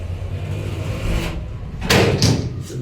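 ThyssenKrupp lift doors in a shopping centre in Poole slide shut with a low steady hum, ending in a short burst of thuds and clunks as they meet.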